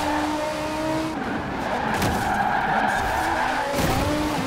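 Car tires skid and squeal during a drift in the racing video game Forza Horizon 4. The screech is sustained over a steady engine roar, swelling in short surges throughout.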